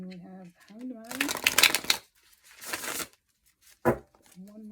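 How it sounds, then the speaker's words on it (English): Tarot cards being shuffled in a deck, crisp riffling bursts close by, two longer shuffles followed by a short flick, with a person talking in between. "One more shuffle."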